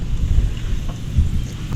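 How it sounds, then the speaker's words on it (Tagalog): Strong wind buffets a boat at sea, a loud, blustery low roar gusting across the short stretch with no clear voices. "Malakas man hangin."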